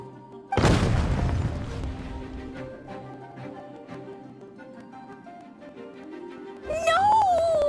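A sudden loud boom from an explosion in Genshin Impact, fading into a decaying rumble beneath game music, then a rising tone and more game sounds near the end.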